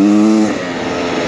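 A 2023 Beta Xtrainer 300 two-stroke enduro motorcycle is ridden hard, its engine buzzing loudly with a steady high-revving whine that drops in pitch briefly and then carries on.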